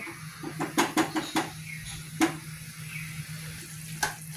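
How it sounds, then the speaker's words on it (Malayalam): Masala gravy with vinegar for tuna pickle bubbles in a pan, with a soft background hiss and a series of sharp pops and spatters, most of them clustered near the start. "ഇതൊന്ന് നല്ലോണം തിളക്കിട്ട്"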